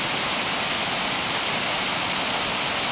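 A river waterfall swollen by rain gives off a loud, steady, dense roar of rushing and crashing water, close and constant throughout with no talk or other sounds.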